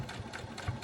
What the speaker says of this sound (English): It's not a very loud sewing machine, which is wonderful.